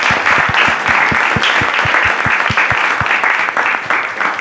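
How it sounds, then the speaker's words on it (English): An audience at a lecture on Russian Orthodox church design applauds a speaker, loud dense clapping with distinct nearby hand claps punching through the wash, steady for about four seconds. "let's have a round of applause just for Nikki."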